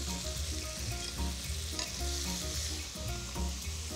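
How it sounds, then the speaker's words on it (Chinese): A scallion oil packet frying in a pan, a steady loud sizzle with faint crackles and a few soft utensil knocks, no voices. "所以先把葱油包下锅"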